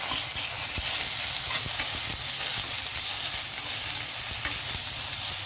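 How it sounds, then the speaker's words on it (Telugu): Vegetables for a chickpea pulao frying in oil with ginger garlic paste give a loud, steady sizzle with close stirring scrapes, with no voices. "ఇవి ఇలా వేగేటప్పుడే మనం అల్లం వెల్లుల్లి పేస్ట్ వేసేస్తే ఇది కూడా పచ్చివాసన లేకుండా వీటితో పాటు వేగిపోతుంది"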